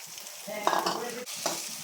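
Finely chopped onion fries in a pan, a close, steady sizzle punctuated by a couple of stirring scrapes and taps, with nobody talking.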